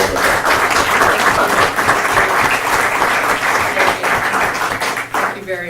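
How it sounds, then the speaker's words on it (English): Loud, dense applause from a council meeting audience fills the room without letup, with a voice briefly speaking over the clapping near the end. "I really give them a round of applause"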